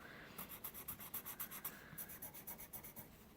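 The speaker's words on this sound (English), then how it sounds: "Oh, this is my regular 2B pencil." A regular 2B graphite pencil moves across paper in quick rhythmic strokes, about a dozen soft scratchy rubs in a steady back-and-forth pattern, close and quiet with a short pause midway.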